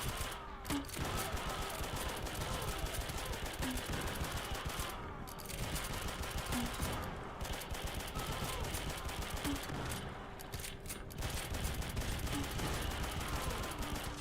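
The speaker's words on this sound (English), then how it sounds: "That's a fucking pistol." Pistol fire in the zombie video game Dead Frontier 3D comes as dense rapid bursts of sharp cracks, fairly faint, continuing through the whole stretch with short pauses between volleys.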